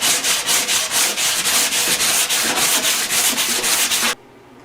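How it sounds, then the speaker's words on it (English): A 120 grit sanding block scrapes over body filler on a Honda Sabre cafe project in quick, regular back-and-forth strokes, loud and close, ending abruptly. "now I'm going to use that sanding block that I've had around forever"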